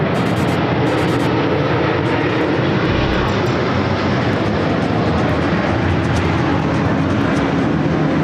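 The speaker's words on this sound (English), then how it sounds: "It's an A380 Lufthansa flight 452." A Lufthansa Airbus A380 airliner's engines produce a loud, continuous, broadband roar that stays steady and dense throughout, with no voices.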